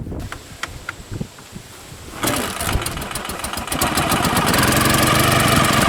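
A Ural Russian motorcycle engine cranks over weakly, then catches at about two seconds and settles into a loud, steady running rumble with the choke out, close up and without talk.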